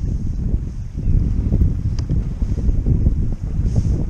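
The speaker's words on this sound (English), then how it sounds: "It's a little windy, so it might be some horrible footage" Strong wind buffets an outdoor microphone on a boat during a flounder and croaker fishing trip, a steady loud roar with gusty swells throughout and no speech.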